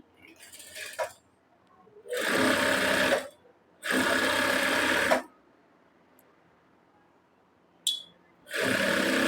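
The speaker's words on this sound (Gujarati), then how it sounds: "પહેલા આપણે નીચેની બોર્ડર ઉપર એક સિલાઈ લગાડી દેવાની." A sewing machine stitching the lower border of a princess cut blouse runs in several loud, steady whirring bursts of one to two seconds each, separated by quiet pauses with small handling clicks.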